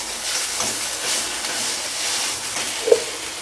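Green chili paste and salt frying in a pan for an Indian-style stovetop pizza bread: a steady, soft broadband sizzle throughout, with one brief sharp crackle near the end and no voices.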